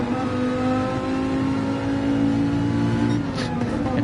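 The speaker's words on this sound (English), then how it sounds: "Listen to some rasping V8 Viper engine." A loud, sustained V8 Viper GT3 race car engine drone in a racing video game at Brands Hatch, raspy and buzzing, holding steady at high revs.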